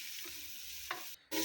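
Corned beef frying and being stirred in a pan, a steady soft sizzle with a couple of brief scraping stirs near the end, no voices.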